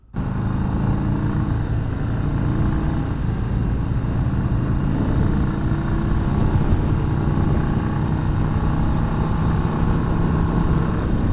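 A Harley-Davidson Street Bob 117 cruiser motorcycle with an upgraded engine runs steadily, a loud, close, continuous low rumble that holds nearly unchanged throughout, with no talking.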